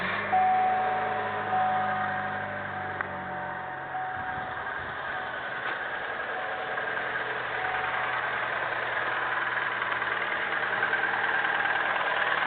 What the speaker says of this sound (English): the vehicle is running, as you can see